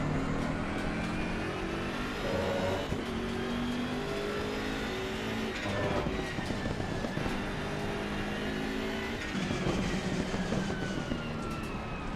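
A Bentley race car engine in the racing game Assetto Corsa Competizione drones steadily at high revs, with brief shifts in pitch as it accelerates and brakes through corners.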